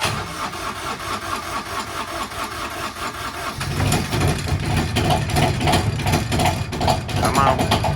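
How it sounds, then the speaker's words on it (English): A small Kubota engine cranks in the cold, around 30 degrees, with a rough grinding churn before it catches and settles into a louder, steady run for the second half. "The little Kubota engine here does not like the cold. See how it starts."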